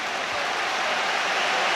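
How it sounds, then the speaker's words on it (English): A Liverpool stadium crowd at a Champions League match against Real Madrid roars continuously, a dense, loud wash of cheering with no breaks. "they are cheering to the rafters, and Konate's whipping up the crowd as well"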